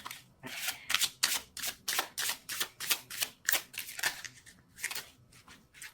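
Tarot cards are shuffled by hand in a quick, regular series of crisp riffling bursts, close and moderately loud, with no voices.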